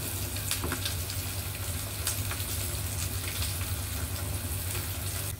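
A soft, continuous bubbling sizzle from coconut milk with bitter gourd and prawns simmering in a pan, with a low steady hum and an occasional light clink.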